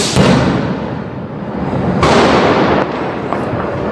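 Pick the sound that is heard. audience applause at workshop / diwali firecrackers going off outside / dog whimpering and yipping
diwali firecrackers going off outside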